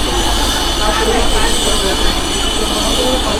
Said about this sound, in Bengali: দেখুন 1 নম্বর প্ল্যাটফর্মে ঢুকছে